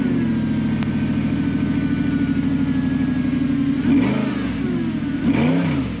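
An Audi R8 with its 4.2 liter V8 idles with a deep, steady, throbbing rumble, then gets two sharp revs that rise and fall, loud and close.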